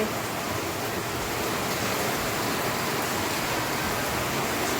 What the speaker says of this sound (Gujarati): જોઈ લો કેવો વરસાદ આવે છે